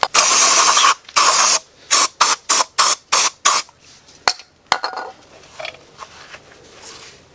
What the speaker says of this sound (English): got some brake cleaner. Let's give all that housing a good clean out.